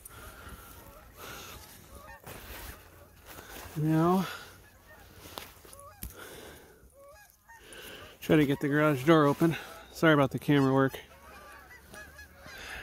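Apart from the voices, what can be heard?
geese honking outdoors in a snowstorm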